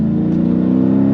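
A Mercedes CLK55's engine revs steadily and loudly during a paddle-shift upshift, a constant mid-pitched drone with no talk over it.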